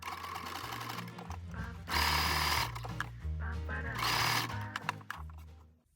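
A sewing machine stitches elastic onto woven-fabric knickers, running in close bursts with a rapid mechanical chatter that speeds up into louder, faster stretches twice.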